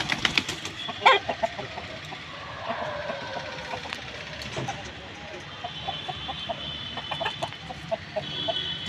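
Intermittent clucks and short calls from a fighting rooster weighing about 3 kg, with scattered knocks and rustling, close by but fairly quiet, and voices murmuring faintly underneath.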